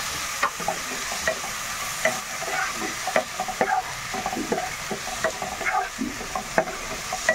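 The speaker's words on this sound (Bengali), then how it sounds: "এবারে নাড়াচাড়া করবো।" Chicken pasta stirred in a frying pan with a steady sizzle beneath repeated scraping and tapping strokes of a spoon, close and fairly loud, with no voices.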